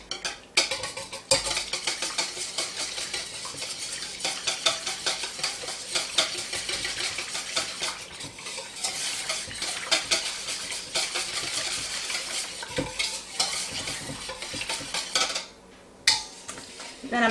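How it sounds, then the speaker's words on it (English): Lemon juice and zest mixture whisked in a bowl for a lemon chiffon cake, rapid rhythmic metallic clinking and scraping of a whisk against the bowl, close and continuous with brief pauses near the end. "I'm going to whisk this all together."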